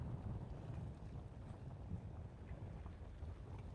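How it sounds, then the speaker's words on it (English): Heavy wind buffets the microphone in a steady, low roar on a coast in Corpus Christi, Texas, with whitecaps and high tide, faint water sounds underneath and no voices. "It's a very windy day today."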